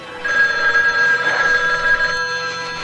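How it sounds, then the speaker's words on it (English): A telephone rings with a sustained, steady electronic tone, loud and close, heard alone without voices. "don't answer the phone"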